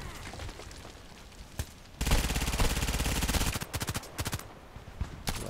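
Automatic gunfire in the online shooter Contract Wars, with a sustained burst of rapid shots followed by several shorter volleys and single reports, loud against quieter game ambience.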